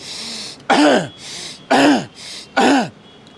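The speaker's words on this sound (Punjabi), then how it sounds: "ਨੱਕ ਰਾਹੀਂ ਹਵਾ ਖਿੱਚੋ ਮੂੰਹ ਰਾਹੀਂ ਖਾਂਸੀ ਕਰੋ" Three forceful, evenly spaced coughs or throat clears, each a short harsh burst with quiet breaths between, close to the listener.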